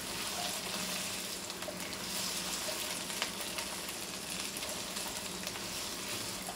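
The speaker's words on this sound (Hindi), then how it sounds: "अब हम इसमें अपनी भिंडी जो है वो ऐड कर देंगे। और भिंडी को जो है ना अच्छी तरह जो है ना फ्राई कर लेंगे।" Okra (bhindi) frying uncovered in hot oil, giving a steady, close, even sizzle and crackle that continues throughout with no talking.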